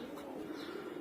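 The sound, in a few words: pigeons cooing in a loft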